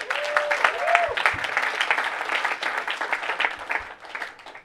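An audience at a magic and skepticism Q&A breaks into applause, a close, continuous patter of clapping that tapers toward the end, with some voices underneath.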